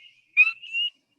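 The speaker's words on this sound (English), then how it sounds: "is the sound of the peeper" A recorded spring peeper frog call from the northeastern United States, a single clear high-pitched peep followed by a slightly lower sustained note, heard alone against silence.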